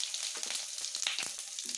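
Asafoetida dropped into hot oil already sizzling with whole garam masala, cumin and dried chillies, giving a continuous close frying hiss with light crackles and faint stirring scrapes throughout.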